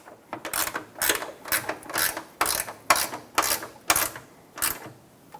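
Bolts being tightened on a Ford F-150 grille mounting bracket with a ratchet, about a dozen quick clicking strokes in an uneven rhythm, close and fairly loud.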